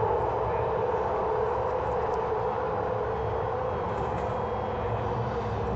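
Interior of a moving BART electric train car, a loud, constant roar of rumble and hiss filling the whole stretch without a break.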